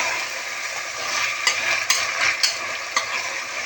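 Chicken biryani mixture being stirred in a pan over medium flame, with a continuous soft sizzle and several sharp scraping clinks of a spoon against the pan at irregular intervals.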